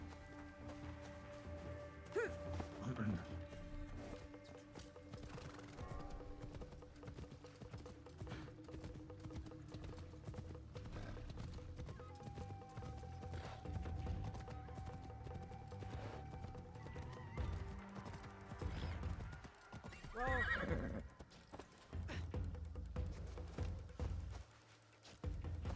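A horse in the video game Assassin's Creed Shadows whinnies and its hooves clip-clop along, set among quiet game ambience and a sustained musical tone, with a second louder neigh near the end.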